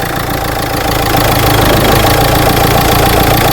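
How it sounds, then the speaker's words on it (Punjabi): A turbocharged car engine that is hard to start idles loudly and close, a steady low rumble that holds constant throughout. "ਗੱਡੀ ਸਟਾਰਟ ਕਰੋ ਬੇਟਾ"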